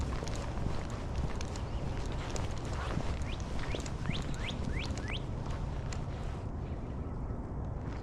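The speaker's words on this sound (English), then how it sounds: "There's ducks flying over." Mallard ducks fly over a frozen winter marsh, a run of faint quacks rising in quick succession at a distance over steady low background noise.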